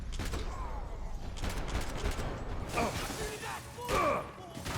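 Scattered gunshots and crunching impacts in Max Payne 3 pop at moderate volume, several sharper bursts standing out near the end amid clattering debris.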